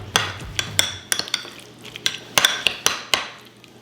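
A spoon briskly mixes relish seasoned with black pepper and salt in a bowl, tapping and clinking against the sides in a quick, uneven rhythm, close and clear.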